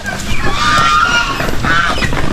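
Hungry broody turkeys call out on a farm, a continuous run of harsh, honking gobbles and squawks up close, with fowl chatter layered over a steady background.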